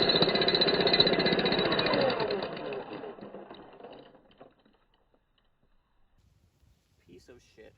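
Harbor Freight jackhammer breaking concrete close to rebar: a dense, loud rapid hammering that runs for about three seconds then winds down and stops, leaving near silence with faint movement at the end.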